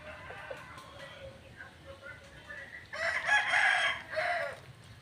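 A rooster crows loudly nearby, a long ragged call rising and then trailing off, after a stretch of quieter background clucking.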